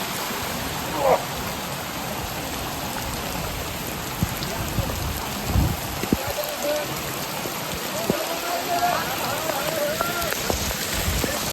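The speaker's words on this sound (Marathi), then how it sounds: "कालपासून पाऊस चालू आहे मरणाचा पाऊस चालू आहे" Steady heavy monsoon rain at Kankeshwar temple in Alibag, pouring and pattering on surfaces, a dense continuous hiss with a few faint scattered noises in the background.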